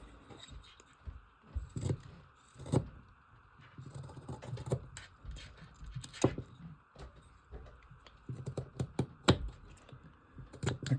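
A knife carving a small wooden frog makes quick, irregular scraping and tapping cuts, close and clear, in short bursts with brief gaps.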